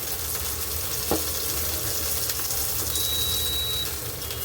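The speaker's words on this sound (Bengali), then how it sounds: "দেখতেই পাচ্ছ দুধ দিলাম তেলের মধ্যে।" Milk added to hot oil in a frying pan, giving a steady, close sizzle and crackle that holds evenly throughout, with a single faint tap partway through.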